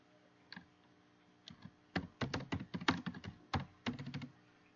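Keys clack on a computer keyboard as a section name is typed, first a few scattered taps and then a quick irregular burst of keystrokes, close and clear with no voices.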